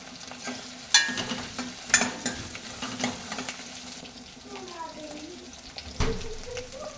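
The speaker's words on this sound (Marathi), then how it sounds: "टोपाला छान मस्त असं तेल सुटल्यानंतर त्यात आपण शिजलेली डाळ" Cooked dal tipped into hot oil in a pot and stirred for a Marathwada-style spicy varan, giving a soft sizzle with scraping spoon strokes and a few clinks against the vessel, close and moderately loud.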